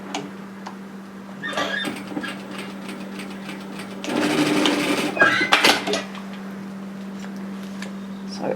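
Sewing machine running a short stretch into the facing piece of a bomber-style varsity jacket, a close mechanical whir with clicks, louder in a brief burst midway, over a steady low hum.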